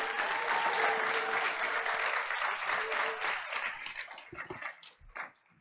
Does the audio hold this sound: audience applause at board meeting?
yes